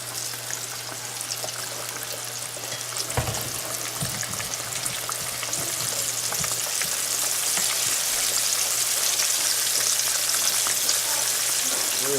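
Catfish fillets deep frying in hot grease, a dense, continuous bubbling hiss that swells slightly louder partway through, with a sharp clunk early on and a low steady hum underneath, no talking.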